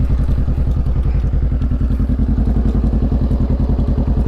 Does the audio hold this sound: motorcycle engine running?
yes